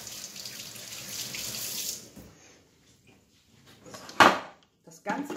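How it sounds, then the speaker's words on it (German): A kitchen tap runs for about two seconds as a finger is rinsed during bread baking, then stops, followed by a few clattering knocks of utensils or a lid. "Ich muss mal eben meinen Finger spülen."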